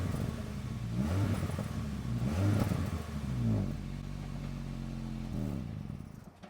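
A Honda Fit engine on its stock muffler, which has an exhaust leak, revs up in a few rising and falling surges. It sounds moderately near with a raspy, fluttery tone and no talking.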